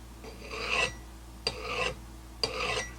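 A metal file rasps the burr off the edge of a sharpened garden hoe blade: three separate forward strokes, each a close, gritty scrape that swells and fades, with short pauses between them.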